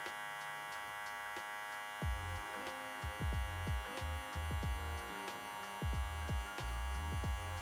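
Electric hair clippers with a number 1 guard and the lever fully open buzz steadily up close, with repeated short bumps and scrapes as the blade works through hair.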